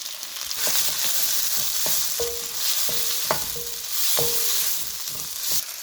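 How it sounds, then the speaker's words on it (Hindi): Tomatoes go into sautéed onions for a bhindi dish and fry with a steady sizzle, punctuated by repeated sharp spoon taps and scrapes against the pan, close and without speech. "अब मैं इसमें टमाटर डाल रही हूँ"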